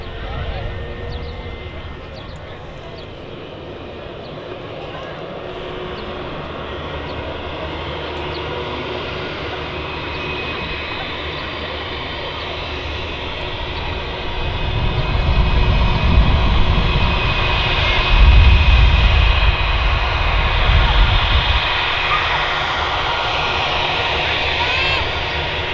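Airliner arriving from Barcelona, landing and taxiing at Manchester Airport, its engine roar steady and distant before swelling louder midway, with a voice talking over it.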